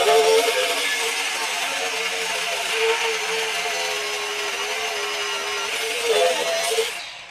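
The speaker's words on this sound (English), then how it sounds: "it's not the most powerful grinder that I've used, but it's definitely powering through the cut without a problem" Cordless Hercules HCB61P 20V brushless angle grinder cutting through material, a loud steady high-pitched whine held for several seconds with a brief surge near the end before it spins down.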